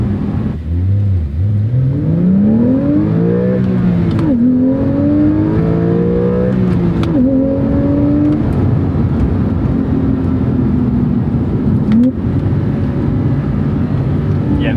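Porsche sports car, a 911 Carrera T or 718 Cayman GTS 4.0, accelerating hard with repeated rising engine sweeps between gear changes, loud and close from the cabin, a voice briefly heard over it.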